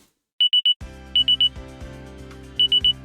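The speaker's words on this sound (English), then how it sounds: "I woke up to the sound of my phone's alarm" A phone alarm beeps in quick bursts of three high electronic tones, repeating over a sustained musical ringtone melody, loud and close with no talk.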